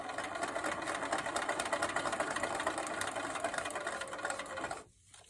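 A sewing machine stitches a quilt block in a fast, steady mechanical whir with rapid needle ticks, running continuously up close before stopping abruptly near the end.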